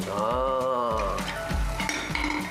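Fish frying in a pan, a close sizzle with stirring and the clink of cookware over a couple of seconds, with no talking.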